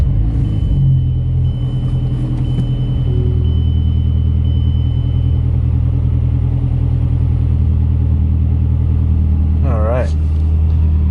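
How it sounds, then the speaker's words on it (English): A second-generation Mazdaspeed 3, checked for a P2004 fault code, runs with a steady low engine rumble across the whole stretch, as if idling just after starting, with a brief rising whine near the end and a voice talking over it at times. "start the car after 15 seconds."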